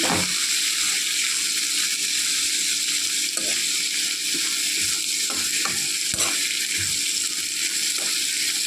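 Eggplant pieces fry in hot oil for Andhra cucumber chutney, a loud, steady hiss and crackle throughout with occasional stirring scrapes and no voices.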